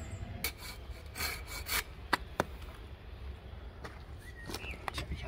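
A hand saw cuts wood for a bushcraft bark boat, rubbing in uneven strokes under rustling outdoor noise with a few sharp clicks.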